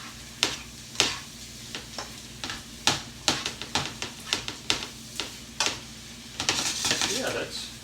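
Ground turkey cooking in a pan while a utensil chops and scrapes it, sharp metallic clacks landing every half second or so over a soft sizzle, growing into a busier scraping run near the end.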